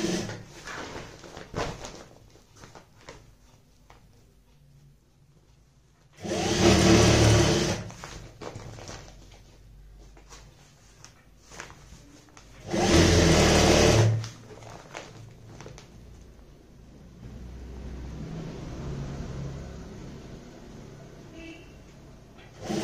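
A sewing machine stitches a waterproof shopping bag in two loud, steady whirring runs of several seconds each, separated by quieter handling noises and a person talking in between.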